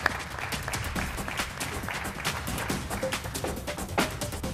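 Moderate studio audience applause welcomes a guest on a talk show, with dense, steady clapping that swells slightly toward the end.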